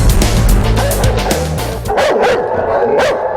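Dogs barking in kennels at an animal shelter, a loud, dense chorus of overlapping barks and yips echoing in an enclosed space, with several sharp barks standing out near the end.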